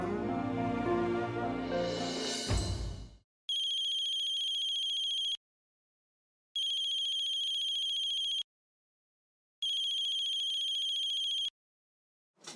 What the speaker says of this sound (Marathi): विजय, राजेश शिर्के मॅमचा फोन आहे.